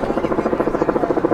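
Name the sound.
helicopter flying overhead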